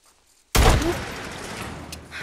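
A gunshot in the video game Days Gone: one loud, sudden blast after near-silence, followed by a dense, noisy rumble that lingers and trails off.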